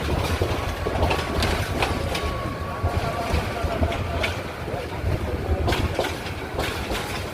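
Inside a crowded passenger train near Uttara bound for Dhaka, a continuous rumbling roar with rattling carriage noise and faint rhythmic clatter over the rails, with crowd chatter mixed in underneath.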